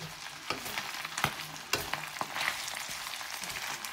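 Garlic and tender octopus tentacles fry in a pan, a steady close sizzle punctuated by several sharp utensil knocks and scrapes against the pan.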